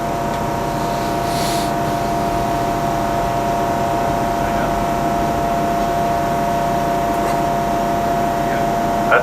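A biomass gasifier generator running on syngas drones with a steady, loud engine hum and tonal whine that holds constant throughout, with no notable changes in pitch or load.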